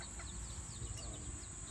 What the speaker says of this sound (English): They're little chickens.